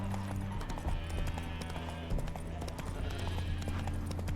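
Horse Roach's hooves clip-clop steadily in The Witcher 3, a continuous rhythmic plodding under game music and ambience, with a faint whinny mixed in.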